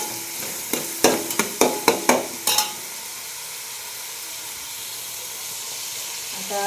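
Tomato and onion fry in a very large pot. A run of about seven sharp ladle scrapes and knocks comes in quick succession, then fades into a steady, even sizzle.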